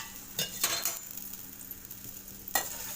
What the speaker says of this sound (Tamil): நெய் கொஞ்சமாக ஊற்றிக்கலாம். அடுத்தது நட்ஸ் போட்டுக்கலாம்.